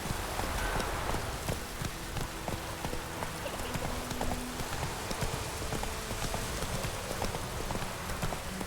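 Roach, a horse in The Witcher 3 video game, gallops with steady clip-clop hoofbeats under a constant noisy bed resembling rain, the hooves moderately loud and continuous throughout.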